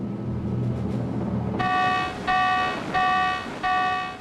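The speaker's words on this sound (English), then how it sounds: "All of a sudden you hear that bong, bong, bong, bong going, the klaxon going off." Battle stations klaxon aboard a US aircraft carrier: after a stretch of rumbling background, four loud, harsh buzzing blasts sound in an even, repeating rhythm, each cut by a brief gap.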